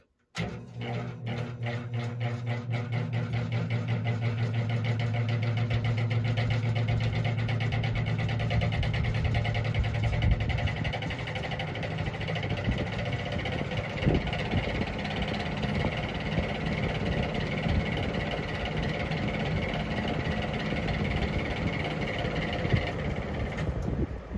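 A GE box fan motor with an off-balance blade spins up to high speed, a loud continuous hum and rattling drone with a rumbling, uneven low vibration that holds steady throughout.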